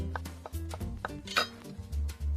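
A knife cuts mozzarella cheese into small cubes on a board, giving a few soft irregular taps and light clinks up close over a faint kitchen hum.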